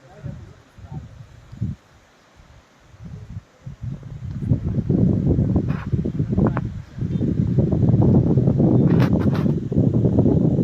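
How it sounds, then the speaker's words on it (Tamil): Strong wind gusting at a waterfall viewpoint, a loud broadband rush that builds from quieter bursts into a steady roar buffeting the microphone, with faint voices in places. "காற்று பாருங்கள் செம்மையாக அடிச்சிக்கிட்டு இருக்கு"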